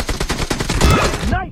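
Automatic gunfire rattles in a rapid, loud burst during a video game team deathmatch, fired from an AKM rifle, with bright tonal game effects ringing out near the end.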